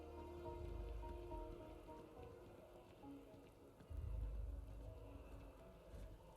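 Rain falling in the video game Starfield, a faint steady patter with a low rumble beneath that swells briefly partway through.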